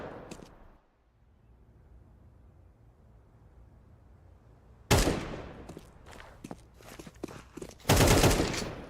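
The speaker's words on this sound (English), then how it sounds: "An AK rolling down mid." Bursts of AK rifle fire in a competitive first-person shooter match, a loud sustained volley after a quiet stretch, then scattered shots and a second heavy burst near the end, with no voices over it.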